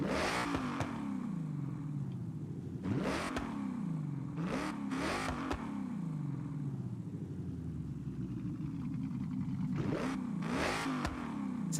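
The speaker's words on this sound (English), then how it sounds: "Sounds like a Corsa exhaust." A modified car in Forza Horizon 6, driving in Japan, fitted with a Corsa-style exhaust, revs hard in repeated bursts, its engine note climbing and falling several times, close and loud with no talking.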